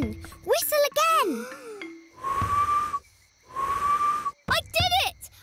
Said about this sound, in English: Hey! You're whistling! I whistled! Whistle again!